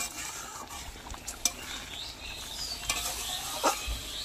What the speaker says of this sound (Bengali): কাঁচা তেলটা দিয়ে এই যে এবার নেড়ে, এবার কিছুক্ষণ ফুটবে